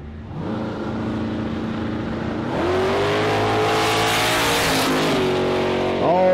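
A drag racing car roars hard down the dragstrip at Warwick Dragway, a loud sustained engine note that rises in pitch, with another surge near the end.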